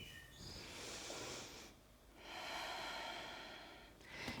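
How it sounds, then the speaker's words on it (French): Slow, audible breaths drawn in and let out during a yoga sequence built around a chair, two long airy inhale-exhale phases with a brief pause between, close and moderately quiet. "Prenez une inspire, une expire ici."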